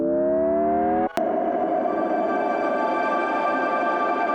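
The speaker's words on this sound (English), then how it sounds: "And then I have the grain delay tone on the end" A synth grain delay tone rings out as a steady layered harmonic drone, rising slightly before a brief cutoff and then sustaining with a bright, shimmering, grainy texture to the end.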